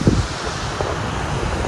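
Wind gusting across the mic on a mountain trek toward Annapurna base camp, a rough, buffeting roar with a few stronger bursts, heard alone.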